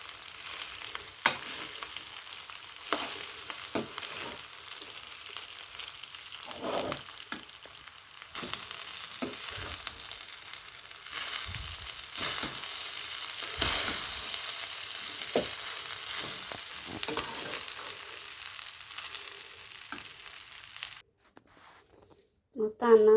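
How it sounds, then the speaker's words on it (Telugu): Leftover cooked rice stirred and mixed in a pan for lemon rice, with soft scraping and a light sizzle over about twenty seconds, intermittent spoon knocks, ending abruptly. "ఇది వేసుకున్న అన్నాన్ని కలుపుకోవాలి ఫ్రెండ్స్."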